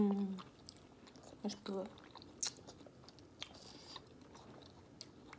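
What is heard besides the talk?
eating and chewing quail eggs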